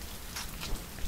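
Steady rain hiss from the video game Hand of Fate, a continuous broadband wash of falling drops with a few slightly louder patters, no voices.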